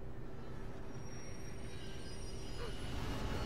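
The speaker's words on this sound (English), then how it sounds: "The train is coming." A train rumbles past in Life is Strange, a steady, heavy, continuous low roar with rolling wheel noise that grows slightly louder toward the end.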